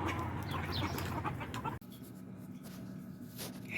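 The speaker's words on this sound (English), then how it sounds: "I knew I'd start hearing cheeping." High, thin cheeping from hatching chicks in an incubator sounds amid rustling and clucking, close by, with a sudden drop in background noise partway through.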